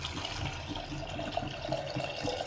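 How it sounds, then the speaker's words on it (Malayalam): Water poured into a pot of lentils, a continuous close splashing trickle running steadily throughout with no voices. "പരിപ്പ് വേവാൻ ആവശ്യമുള്ള വെള്ളം ഒഴിച്ച് കൊടുത്തു"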